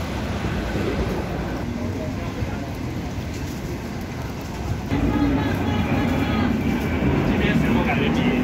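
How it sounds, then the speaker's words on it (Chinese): A Long Island Rail Road train passes at a station in Flushing, New York, giving a loud, continuous rumble and roar that steps up and grows fuller about halfway through, with city background under it. "这是长岛的铁路"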